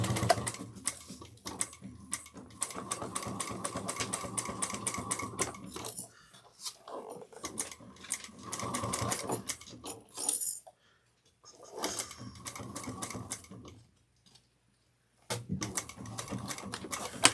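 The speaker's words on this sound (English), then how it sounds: "we're going to sew this down at a 3/8 of an inch. Make sure you back stitch well before" A sewing machine stitches a 3/8-inch seam with back stitching on a train case project, running in several bursts of rapid, even needle chatter separated by short pauses and stops.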